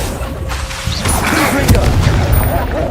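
A Confringo fire spell blast in the video game Hogwarts Legacy, a loud booming burst with crackling impact that rings out, with a voice calling out over it.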